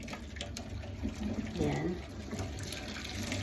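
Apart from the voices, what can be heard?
water poured to rinse a kettle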